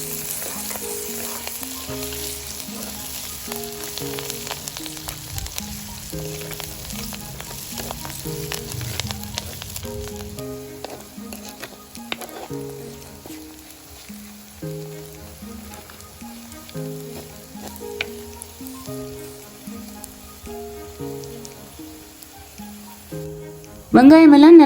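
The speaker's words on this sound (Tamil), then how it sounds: "வெந்தயம், பெருஞ்சீரகம், கறிவேப்பிலை எல்லாத்தையும் சேர்த்துக்கொள்கிறோம். சேர்த்து நல்லா வதக்கி கொள்ளணும்." Fenugreek, fennel seeds, curry leaves and onion sizzle steadily in a pan for Jaffna-style egg curry, a continuous close frying crackle with occasional stirring scrapes.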